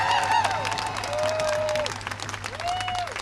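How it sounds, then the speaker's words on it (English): Crowd applause at an outdoor abortion-rights rally in Seattle, steady dense clapping with loud whoops and cheers rising over it, close and continuous throughout. "I want to give a quick round of applause to everyone that stood up here and shared their story."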